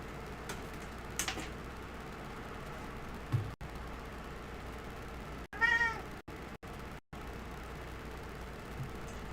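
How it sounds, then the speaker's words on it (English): A domestic cat lets out a single clear meow midway through a quiet indoor stretch, with a faint steady ticking and low background hum around it and brief dropouts of sound. "The cat says hello."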